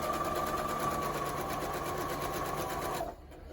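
A sewing machine running steadily with a continuous whirring hum, stitching thread at close stitch spacing, loud and close, then stopping abruptly near the end, leaving quieter room noise.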